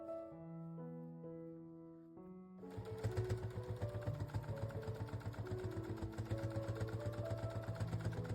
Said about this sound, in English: continue sewing until all of your bunting panels are sewn in